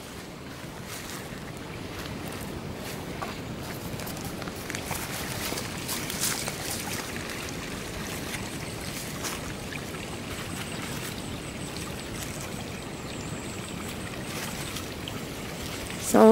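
A stream flows past a bridge in the Glattmoos woods of Entlebuch, a steady close rush and trickle of water running continuously, with no talking.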